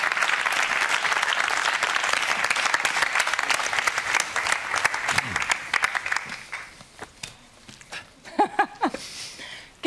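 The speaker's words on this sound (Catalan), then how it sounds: "Vols que t'aplaudeixin?" A studio audience on the Catalan TV3 talk show FAQS claps loudly and steadily, then the applause thins out and stops, and voices begin talking near the end.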